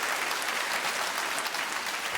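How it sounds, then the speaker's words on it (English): Audience applause at a stand-up comedy show, a steady, dense clapping that fills the full two seconds at an even, moderate level with no voices on top. "Don't applaud that."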